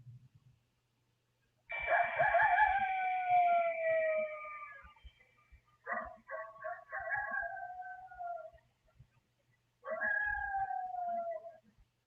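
A person's voice imitates a coyote howling at the moon outdoors at night: long, wavering, rising and falling howls in three separate bursts with short pauses, close and fairly loud.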